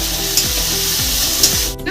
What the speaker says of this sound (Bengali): পেঁয়াজটা ভাজা ভাজা হয়ে গেছে, এর মধ্যে দিয়ে দিলাম আমি টমেটো কুচি